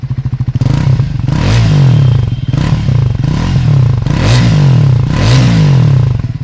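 A Triumph Speed 400 motorcycle engine idles loud and close, its steady throbbing rumble swelling in regular pulses about once a second. No one talks over it.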